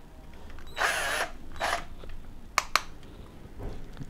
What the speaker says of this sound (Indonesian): Kita lakukan dulu pengetesan untuk pemasangan skrup langsung.